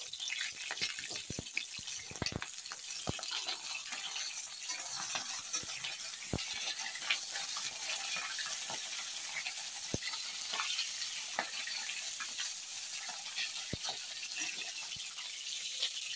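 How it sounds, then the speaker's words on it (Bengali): Pointed gourd (potol) pieces fry in hot oil, producing a continuous soft sizzle and hiss with occasional sharp clicks from stirring, steady throughout and fairly quiet. "এখন পটলগুলো তেল গরম হয়ে গেছে, দিয়ে দেব।"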